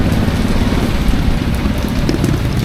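Steady rain falls hard and continuous on a surface outdoors, with a motorcycle engine idling faintly underneath and no voices.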